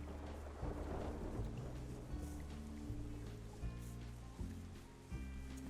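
Rain falls across the landscape in the video game Terra Nil, a steady broadband hiss with low rumbling thunder-like swells, while music or game tones play beneath it.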